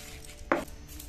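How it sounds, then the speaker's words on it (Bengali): A single knife stroke cuts through raw papaya on a board, one brief, close chop standing out against a quiet background. "এবার আমি পেঁপেটাকে ছোট ছোট করে কেটে নেব।"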